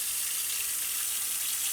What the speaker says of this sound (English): you're going to first need a large pot, and let's fill this up with some water.